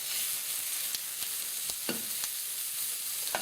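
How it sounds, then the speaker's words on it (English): Honey roast pork stir-fried with softened onions in a pan: a steady, close sizzle of hot oil, broken by light taps and scrapes of a utensil mixing the ingredients. "When the onions are soft, we add our honey roast pork and just mix them together"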